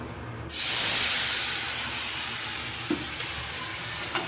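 Asafoetida hits a hot pan for tempering, bursting into a loud, sustained sizzle that begins abruptly and then hisses on steadily, with a few faint stirring knocks near the end.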